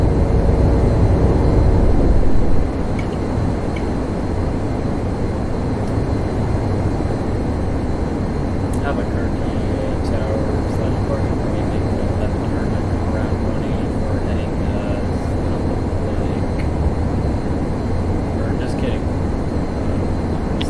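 Steady roar of an F-18 jet engine in Microsoft Flight Simulator X, a loud continuous rumble that drops slightly in level early on and then holds constant, with radio talk over it.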